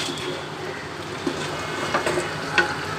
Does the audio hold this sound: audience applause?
no